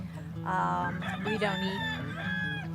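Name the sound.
rooster crowing among rescued injured birds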